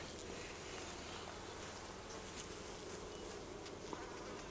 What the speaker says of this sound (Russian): Так, пчела бакфаст, ребята.